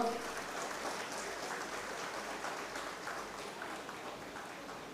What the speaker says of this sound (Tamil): நிறைய கைத்தட்டலாம்